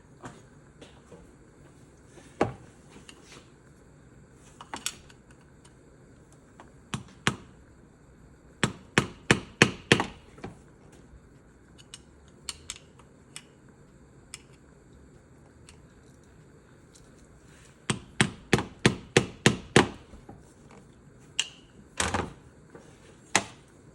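Screwdriver hammered into a plastic part while installing an N55/N54 chain and sprocket overdrive kit, sharp knocking strikes in irregular bursts of quick repeated blows separated by quiet pauses.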